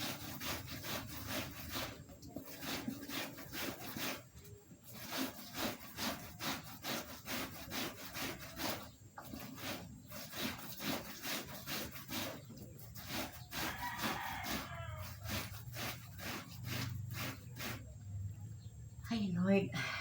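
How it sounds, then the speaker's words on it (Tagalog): A stiff brush scrubs a surface in quick, rhythmic back-and-forth strokes, close and steady throughout, with brief pauses between bursts and a low background murmur. "Ang tanging maingay ang brush ko."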